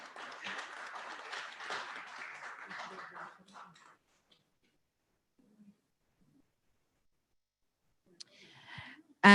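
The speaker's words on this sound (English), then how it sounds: "A round of applause for David" Applause from an audience at an agri-tech symposium awards ceremony, a few seconds of modest clapping that fades out into near silence, with a faint voice returning at the end.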